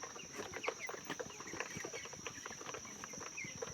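Chickens on a poultry farm cluck and murmur softly, a busy scatter of overlapping short calls from many birds, faint and fairly distant, with a constant high electrical whine behind them.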